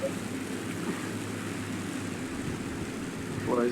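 Steady propeller drone of an He-51 biplane engine in War Thunder, a continuous mid-level hum throughout with a slight rise at the end.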